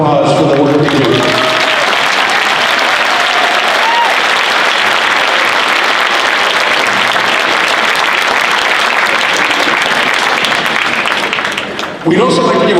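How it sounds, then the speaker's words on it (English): A large audience at a high school band concert gives the musicians sustained, loud applause, dense and steady throughout before tapering off at the very end. A voice is heard briefly at the start and the end. "let's give these musicians another round of applause for the work they do"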